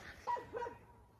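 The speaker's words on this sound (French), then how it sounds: "Hulk, c'est un chien qui est aveugle après avoir fait une vaccination contre les parasites" A blind dog at a dog shelter in Spain gives two short, faint barks in quick succession, fairly close, against quiet background noise.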